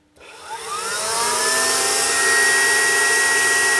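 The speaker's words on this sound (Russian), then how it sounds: "сейчас у нас насос, получается, дует воздух прямо выпускной коллектор" On an AVU/BFQ engine, the secondary air injection pump switches on after a click and spins up into a loud, steady whirring whine with a rising tone that settles into a constant electric hum.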